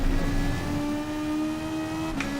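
Steady, buzzy engine drone from a Gran Turismo 7 Group 3 race car at Dragon Trail Seaside, heard in the cockpit view with a motorbike-like tone, holding a constant note throughout with no talk over it.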